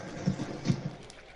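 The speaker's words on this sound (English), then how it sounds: "You crazy horse." Horse in Red Dead Redemption 2 giving a few quick hoof thuds and a short snorting whinny, close and fairly loud, then settling into quiet ambience.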